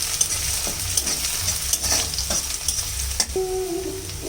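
Crushed garlic and dried red chillies fry in hot oil with cardamom for a spicy country chicken dish, crackling and sizzling steadily while a spoon scrapes and stirs in several sharp, close knocks.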